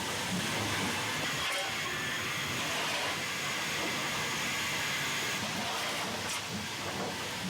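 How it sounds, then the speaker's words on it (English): Steam locomotive City of Leeds standing at Crewe as the fireman prepares it for departure, giving a steady, loud hiss of steam with low rumbling throughout, with no clear breaks. "City of Leeds fireman prepares the loco for departure."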